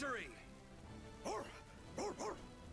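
A dog character in the video game Tales of Vesperia gives a victory cry, several short, bright barks and yips in quick clusters, heard up close alongside a brief bit of talk.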